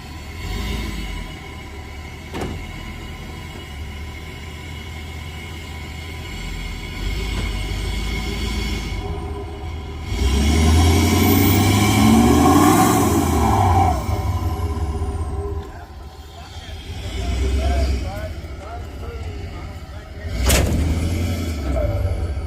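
Antique truck engine rumbling low and steady while pulling a trailer on a farmstead, swelling louder midway with metallic squeals and creaks, and faint voices in the background.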